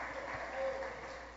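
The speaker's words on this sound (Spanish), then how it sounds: "Un aplauso para el Señor Jesucristo." A church congregation applauds in a short burst of dense clapping, steady and full, with a voice carrying over it.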